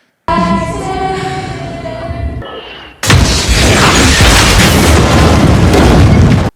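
In a Peaky Blinders film scene, a tonal musical passage cuts off and a massive loud bomb blast erupts, followed by sustained roaring rumble from bombs dropping.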